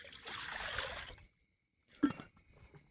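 Water from a bottle is poured out in a steady trickle for about a second outdoors in a forest, then stops, followed by faint splashing and handling noises.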